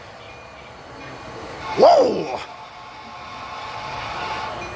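A model train rolls past on the La Mesa layout at the San Diego Model Railroad Museum during a 1990s-era run session, its rumble swelling briefly and staying moderate, with a person exclaiming as it passes.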